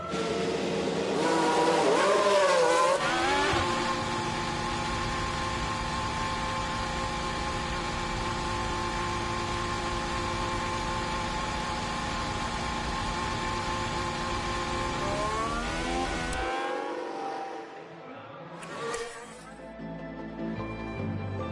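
A continuous synthetic engine whine holds steady for about fifteen seconds, rising at the start and cutting off near the end, from F1 cars leaving the pits at Baku in F1 Manager 2022.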